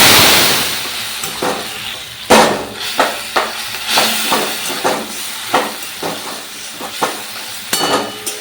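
Boiled greens hitting hot oil with dried chili and panch phoron in a home kitchen, a loud hissing sizzle broken by repeated sharp clacks and scrapes of a spatula stirring in an irregular rhythm.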